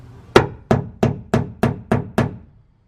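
Seven evenly spaced hammer taps on metal in a Sprinter van, starting a drill hole, sharp and close, each ringing briefly before the next, with no voices.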